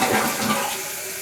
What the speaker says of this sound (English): I'm going to flush this, and we're going to see if this drips.